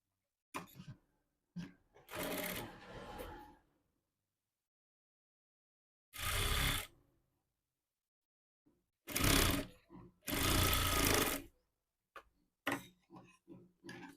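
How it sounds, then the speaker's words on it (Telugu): Folded cloth pieces for Punjabi pants are stitched on a sewing machine in several short bursts of whirring, separated by silent pauses and small clicks of handling. "ఈ రెండు క్లాత్ని ఇలా ఓపెన్ చేసి ఇలా ఫోల్డింగ్ చేసి ఇక్కడ కుట్ అనేది వేసేయండి"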